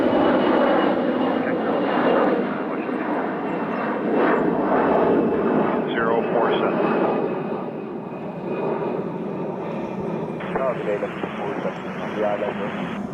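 Airliner taking off from Toronto Pearson airport, a loud sustained jet engine roar that swells and holds at full power, heard from outdoors by the runway, with people talking intermittently over it.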